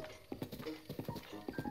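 A horse in The Legend of Zelda: Breath of the Wild, its hooves clip-clopping in a quick, uneven trotting rhythm of soft thuds, fairly faint and close.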